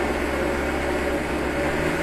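A countertop blender runs at steady high speed, grinding mushroom hummus made from Russula brevipes, a loud continuous whirring drone with no pauses or speech.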